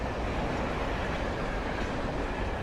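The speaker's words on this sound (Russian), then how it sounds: "что такое? Это поезд, нифига себе." A train rumbles past in the video game Alan Wake, a dense, steady, loud roar of wheels and carriages with faint clickety-clack, continuous throughout with no talking.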